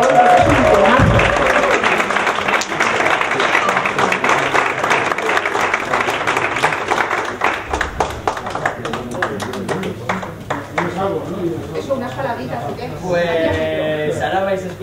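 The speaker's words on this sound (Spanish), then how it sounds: "Un aplauso, por favor, que es un temazo." Audience applause at a music awards gala, dense clapping filling the hall for a song-award winner, strong at first and then thinning into scattered claps toward the end, with music or voices mixed in underneath.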